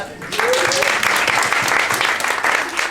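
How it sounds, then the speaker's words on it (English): An audience at a business talk bursts into loud, sustained applause that starts abruptly and holds steady, with a bit of voice mixed in at the start. "give a big round of applause"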